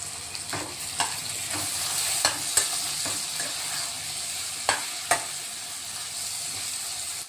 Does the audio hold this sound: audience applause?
no